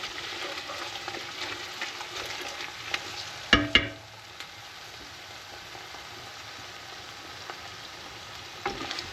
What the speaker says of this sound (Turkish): 3 kaşık salça attım. Karıştırıyorum onu canlarım.